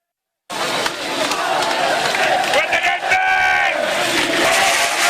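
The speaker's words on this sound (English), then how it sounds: "Let's take a look at some crowd reactions" Football fans celebrate a Premier League title, starting abruptly with loud, massed chanting and shouting that stays dense and close throughout, with cheering voices rising over the crowd noise.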